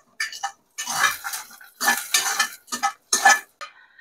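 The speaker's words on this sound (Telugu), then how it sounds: "ఇప్పుడు మనము స్టవ్ ఆఫ్ చేసుకొని ఈ తిరగమాతని వంచిన చారులో యాడ్" Fried onion tempering stirred into a greens rasam, a South Indian leafy soup: a spoon scrapes and clinks against a metal pot in several short, uneven bursts of stirring, close and fairly loud.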